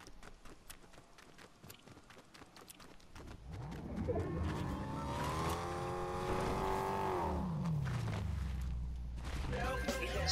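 A car engine in Fortnite revs up and climbs in pitch, then winds down, with clattering and talking beforehand.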